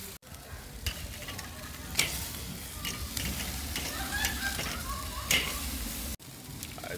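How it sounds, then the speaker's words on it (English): Chicken pieces sizzling on a grill during a reverse sear, a steady crackling hiss with occasional sharper pops and utensil clicks, close by, with a brief spoken word. "Let's reverse sear these bad boys."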